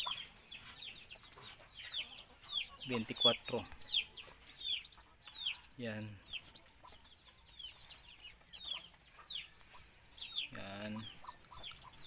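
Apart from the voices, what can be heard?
chickens and ducks clucking on a farm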